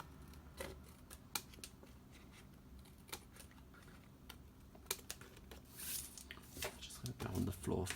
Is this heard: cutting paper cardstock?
yes